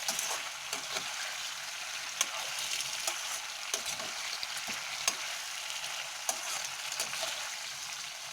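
Pre-fried chicken koftas being stirred into a hot pan, a steady bright sizzle of frying oil throughout with repeated soft scraping strokes and light clicks of the spoon; no talking.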